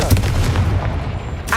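A booming fiery blast from the Confringo spell in Hogwarts Legacy, a dense, rumbling explosion with a crackling tail that lasts about a second and a half.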